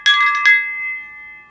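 Chimes rung for Neptune: a quick cluster of bright metallic strikes, then a second hit, leaving clear ringing tones that fade slowly in a quiet room.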